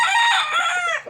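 A Boston Roundhead gamecock rooster lets out a single loud, close crow lasting about a second, with a drawn-out rising and falling cry and no other sounds around it.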